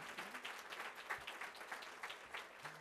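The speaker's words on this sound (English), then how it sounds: "give a round of applause for all the family and supporters that are here" A standing audience at a student recognition awards ceremony applauds the families and supporters present; soft, steady clapping from a crowd, fairly distant and quiet, with a faint voice briefly underneath.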